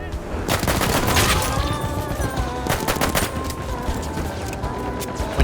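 Rapid bursts of video game pistol fire from a World War I era pistol, sharp shots cracking in quick succession over a busy in-game background.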